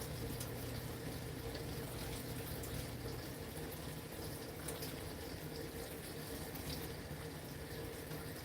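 Water being added to a cornstarch mix for a ground beef chow mein casserole: a faint, continuous wash of running water from a kitchen tap, steady throughout with no voices.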